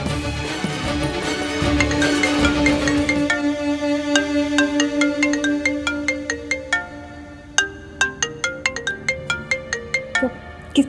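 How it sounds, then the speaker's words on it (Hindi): A phone ringtone plays loudly, a melodic tune with a steady tone that shifts into rhythmic repeating chimes, heard clearly with no talking over it. "किसका फोन है?"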